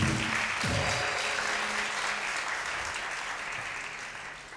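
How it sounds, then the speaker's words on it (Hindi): A studio audience on a Ramazan quiz show bursts into applause, dense steady clapping that slowly tapers off over a few seconds. "तालियां।"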